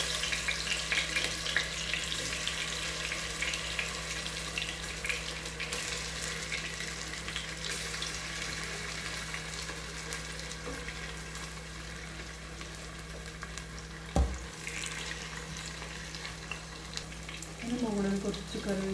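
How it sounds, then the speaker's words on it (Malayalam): Chicken frying in oil in a home kitchen, with a loud, dense, continuous sizzle throughout and a low steady hum underneath. "ഞാനിത് ചിക്കൻ ഫ്രൈ ചെയ്യാനാണ് പോകുന്നത്"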